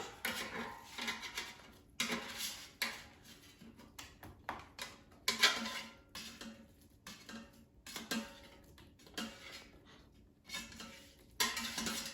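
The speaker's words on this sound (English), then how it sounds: "Now let's take it out of the air fryer." Roasted zucchini slices lifted out of an air fryer basket in a home kitchen, with a string of close clinks and scrapes of utensils against metal and plates, bursts of handling noise separated by brief pauses, no talking.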